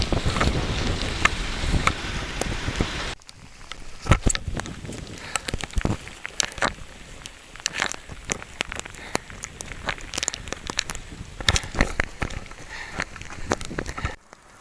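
Gusty wind buffets the microphone with a roaring rush on a cold Appalachian Trail hike in the Great Smoky Mountains, joined by scattered sharp patters and drips of rain hitting nearby, continuing throughout.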